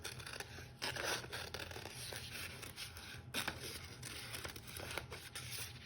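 Scissors snip and rasp through paper while cutting out paper flowers for a spring meadow craft, a steady close run of crisp cuts and crinkles with several sharper snips.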